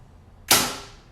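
A single sharp thwack as an arrow leaves a compound bow fitted with a whisker biscuit rest, shot outdoors through an open door, close and loud with a quick decaying ring.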